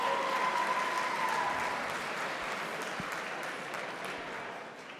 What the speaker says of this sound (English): Give general admission a round of applause.